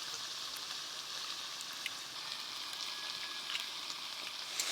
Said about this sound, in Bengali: ভালো করে ভাজা হতে থাক